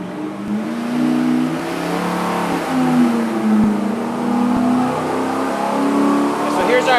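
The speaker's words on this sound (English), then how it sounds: "as we ramp this engine up and give it full throttle" A loud engine revs hard at full throttle on a dyno, its tone rising and falling in sustained pulls, with someone talking over it.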